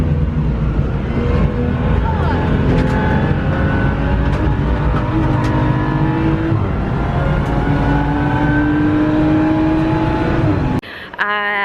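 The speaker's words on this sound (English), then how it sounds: "we are being chauffeured around this Bedford Autodrome really quickly, in and out of cars" BMW M cars, among them a Z4 and an M850i xDrive, lapping fast around Bedford Autodrome, heard from inside: a continuous engine drone rising and falling with gear changes, loud and close throughout, ending in a brief change of sound.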